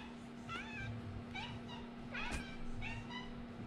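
A cat meows several times indoors during a MacBook Air 13-inch battery replacement: short, rising-falling cries in a loose series, fairly close, over a steady electrical hum.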